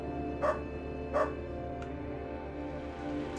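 Two short dog barks from the Underrail video game, spaced under a second apart over a steady low ambient drone, with a fainter third yelp shortly after.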